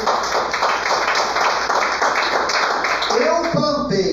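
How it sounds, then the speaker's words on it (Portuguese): A church congregation at a pastoral meeting applauds for Jesus, a dense steady wash of clapping with a voice rising over it near the end. "Dê um aplauso a Jesus."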